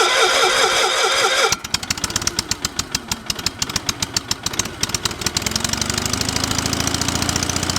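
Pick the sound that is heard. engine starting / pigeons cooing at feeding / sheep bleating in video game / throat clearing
engine starting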